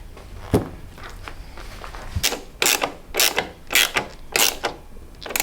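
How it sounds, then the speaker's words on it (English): Side panels are fitted onto a 1982 Honda XL250R motorcycle: a sharp knock, then a run of close plastic creaks and snapping clicks as the panels are pressed and clipped into place. "I'm going to get the side panels on"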